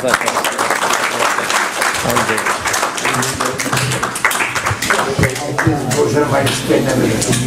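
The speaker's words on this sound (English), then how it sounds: "Round of applause for Steve Stone." Audience applause after a lecture at a mosque gathering, loud continuous clapping from a sizeable crowd that holds steady throughout, with some voices mixed in.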